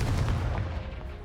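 Confringo blasting curse exploding in Hogwarts Legacy on PS5, one short heavy boom with a rumbling tail that fades within a second, no voices.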